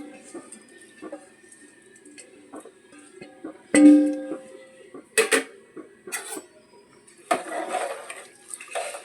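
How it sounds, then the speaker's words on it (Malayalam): Rice stirred in a pot on a simmering stove, a few scraping, clattering knocks of a spoon against the metal with some creaks, moderately close amid quiet kitchen background. "ഒന്ന് നന്നായി ഇളക്കി മിക്സ് ചെയ്യുക"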